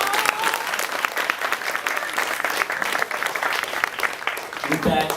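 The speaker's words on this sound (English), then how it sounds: "Give them another round of applause, please." Audience applause at a 2011 college finale performance, dense steady clapping throughout, loud and close, with a host talking over it.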